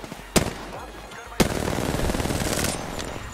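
Gunfire in the video game Apex Legends: two sharp loud shots a second apart, then a rapid burst of automatic fire rattling on for about a second and a half, with faint battle noise behind.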